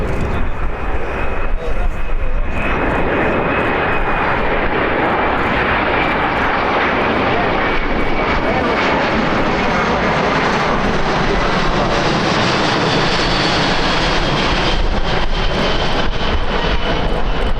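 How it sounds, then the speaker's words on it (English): RAF C-17A Globemaster III transport aircraft flying past at an air show, a loud sustained jet roar with a steady whine that holds constant throughout, with faint crowd voices in the background. "436 of them in all in one of these aircraft. The C17A, Globemaster 3."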